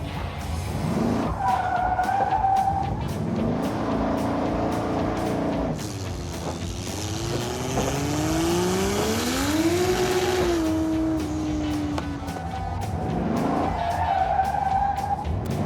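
A Roadkill project car, the Mazdarati, revs hard as its tires squeal in long, loud skids, with engine pitch sweeping up and down through sustained tire screech.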